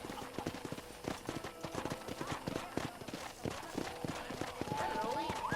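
Rhythmic hoofbeats of a ridden horse in the video game Red Dead Redemption clip-clopping along, steady and close, with background music and a voice speaking over part of it.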